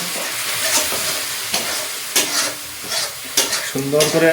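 Soya chaap sizzles and fries in a pan, a steady crackling hiss broken by a few stirring scrapes, close and alone.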